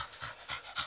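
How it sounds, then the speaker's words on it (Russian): A dog pants rapidly and close up, four quick breathy huffs in a steady rhythm, soft and alone with no talking. "А пес, собака Чаки будет мне помогать"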